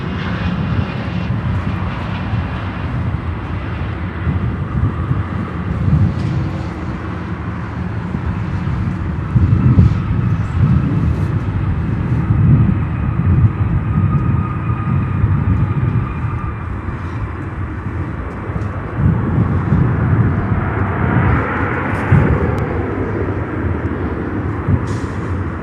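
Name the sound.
Contour Embraer 135 airplane landing at O'Hare airport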